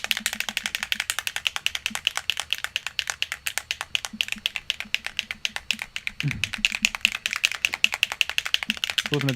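Rapid, steady typing on a computer keyboard, a dense run of close key clicks continuing throughout, with a brief low thump partway through and faint background talk.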